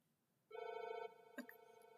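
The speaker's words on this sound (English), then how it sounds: "Are we just going to let it ring?" A telephone rings close by, a sustained electronic tone with layered harmonics that starts abruptly, holds for about half a second, then steps down into a quieter continuing ring, with a brief click partway through; no one speaks.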